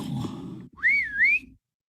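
A single wavering whistle sound effect, rising and dipping in pitch for under a second, follows a brief rumbling noise and then gives way to silence.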